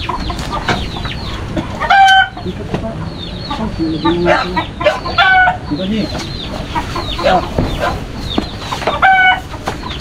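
Chickens clucking close by as a chicken coop is opened, with repeated sharp, rising clucks and squawks coming in bursts over a busy farmyard background and some talk.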